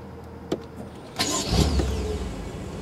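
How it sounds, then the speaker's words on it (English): A 2014 BMW M6 Gran Coupe's twin-turbo V8 fires up with a sharp starter burst, then settles into a loud, steady, rumbling idle close by, with a faint click just beforehand. "Beautiful sound from that twin-turbo V8."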